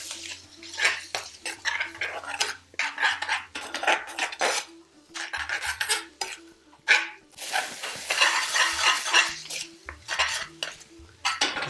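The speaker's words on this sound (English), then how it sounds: "Give that a stir." Chicken with onion gravy and sweet chilli sauce is stirred in a pan. A utensil clatters and scrapes against the metal in a quick, irregular rhythm, close by and fairly quiet. A dog barks faintly in the background.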